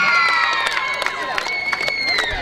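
A crowd of children at a school handball tournament's closing ceremony cheers and shouts for the winning teams, a bright, dense roar of high voices with scattered whoops and claps held steadily throughout.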